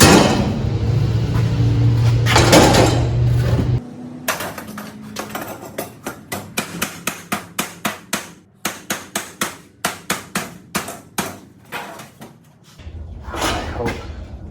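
A hammer striking metal on the subframe of a two-stroke V8-swapped Datsun, a fast series of about twenty sharp, ringing blows after a stretch of engine or workshop rumble, close and loud.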